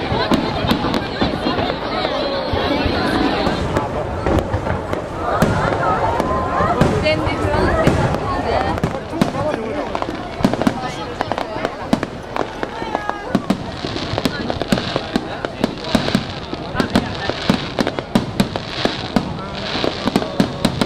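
Fireworks bursting at the Sendai Hanabi festival, the kickoff to Tanabata, with dense, continuous crackling and booming explosions over a murmuring crowd and some voices throughout.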